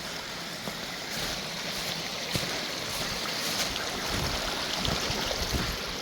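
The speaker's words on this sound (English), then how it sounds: "We go down, back along the river." River water flows as a steady, even rush outdoors on a hike along a forgotten waterway. It sounds close and continuous, with no voices.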